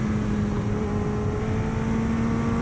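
A 1988 Yamaha FZR 1000 motorcycle engine holds a loud, steady hum close by, its pitch rising slightly through the brief stretch.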